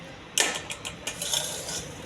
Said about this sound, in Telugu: గిన్నె పెట్టానండి